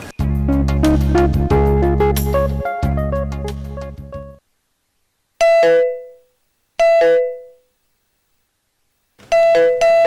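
A doorbell in a home rings out loud and close: a long sustained chiming ring with a brief break, then three short ding-dong presses separated by silence, with no talking over them.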